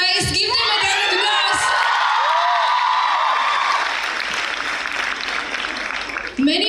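Applause mixed with cheering and whoops from a college fest crowd at an inauguration, dense clapping with shouted voices and bright whistling rising over it, a voice heard briefly at the start.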